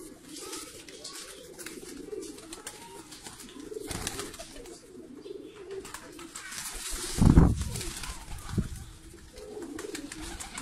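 Pigeons coo repeatedly nearby in soft, throaty murmurs, with a sudden louder flutter and burst of noise partway through.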